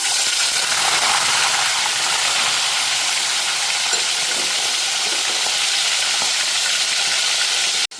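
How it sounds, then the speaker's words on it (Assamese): Mutton pieces dropped into hot oil in a home kitchen, a loud continuous sizzle and hiss of frying meat that holds steady throughout. "তেলখিনি গৰম হোৱাত এতিয়া মাংসখিনি দিম।"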